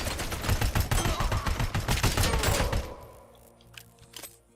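Rapid gunfire in the video game RoboCop: Rogue City, a dense, loud burst of shots lasting about three seconds, then trailing into quieter scattered cracks and a couple of isolated reports.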